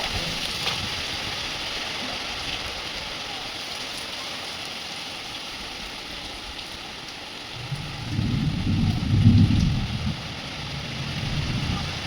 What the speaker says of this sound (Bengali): প্রচণ্ড বৃষ্টি শুরু হয়ে গেছে, তোমাদেরকে দেখাচ্ছি।